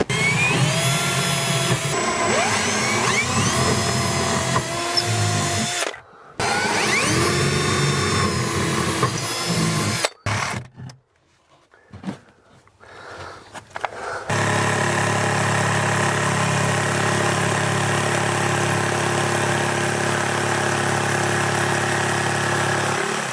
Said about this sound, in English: then he's going to connect those holes with the jigsaw